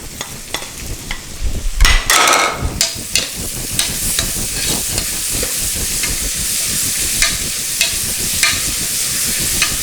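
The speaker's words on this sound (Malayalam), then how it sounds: "വെളുത്തുള്ളി ഇഞ്ചി കറിവേപ്പില പച്ചമുളക്" Garlic, ginger, curry leaves and green chillies fry in oil in a deep pressure cooker, a steady close sizzle under repeated stirring scrapes, with a louder burst of hissing early on.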